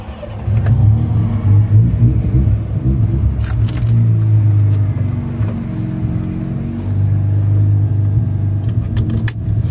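A Mazda RX7's rotary engine revs steadily while the car is driven on the road, a loud, close drone that climbs and falls in pitch across several throttle pulls, with no talking.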